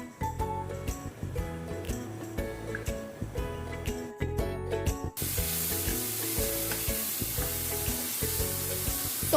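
Onions sautéing in hot oil in a pan for a veg roll filling, with a steady continuous sizzle running throughout, loud and close, with occasional clatter of stirring; the hiss brightens and thickens in the second half.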